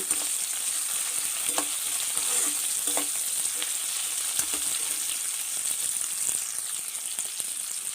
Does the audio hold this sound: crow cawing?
no